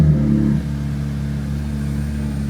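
A McLaren Artura Spider cold-starts with the engine forced on instead of hybrid mode, settling quickly from a loud initial catch into a steady, low droning idle that holds close and alone.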